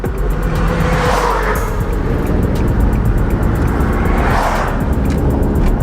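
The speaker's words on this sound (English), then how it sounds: "If traffic will permit for me to be able to pull into an actual road and hit the gas and go." Infiniti G35 car pulling onto a road and accelerating, a steady loud engine and road roar with two rising swells as it gains speed, recorded from inside with no talking.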